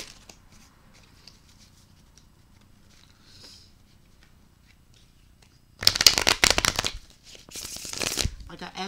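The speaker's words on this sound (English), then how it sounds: "Alright, I'm about to pull some tarot." A deck of tarot cards is shuffled close by, first in a quick burst of riffling and then in a second longer round of crisp, papery flutter, after a quiet stretch with faint background noise.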